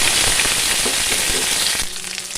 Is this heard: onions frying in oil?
yes